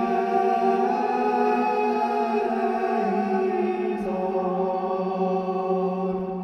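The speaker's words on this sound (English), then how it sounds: "his friend might add a melody that sounds like this" A second sung melody added alongside a monk's chant line, two sustained voices holding long steady tones together, close and clear with no speech over it.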